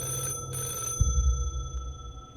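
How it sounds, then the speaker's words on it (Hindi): An electronic landline telephone bell rings in a short trill from a storeroom, then fades, leaving a low thud and steady tonal hum behind. "एक लैंडलाइन के बजने की घंटी सुनाई दी"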